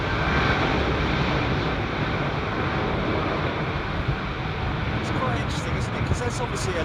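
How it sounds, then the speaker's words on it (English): A British Airways Boeing 777, one of the airline's older ones, lining up on the runway at Heathrow: a steady, broad jet engine roar held at a distance, with a voice talking over it throughout. "this one that's lining up right now is probably one of the oldest 777s in the BA"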